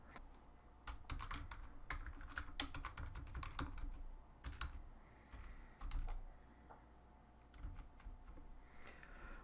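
Fingers tap out a username and password on a computer keyboard in irregular bursts of crisp, close key clicks, with short pauses between runs and no voices.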